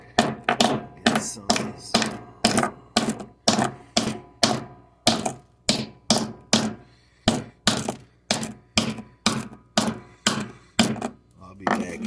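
A small metal alloy button is struck repeatedly with a hammer, about two dozen sharp, loud, evenly spaced taps that ring briefly, with a short remark spoken partway through.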